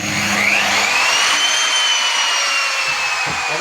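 Wood router machine cutting finger joints in a carpentry workshop: a loud, steady high-pitched motor whine with a rising and falling cutting tone that runs unbroken throughout, with no talk.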